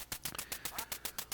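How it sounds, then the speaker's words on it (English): Rapid repeated quacks from ducks in the NES game Duck Hunt, about a dozen evenly spaced electronic honks, loud and alone. "I'm just going to let the birds fly and make you bring back some horrible memories of this stupid duck"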